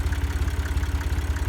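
A hay-baling tractor idles nearby, its engine a steady low rumble with a regular pulsing throb, loud and even throughout with no talk.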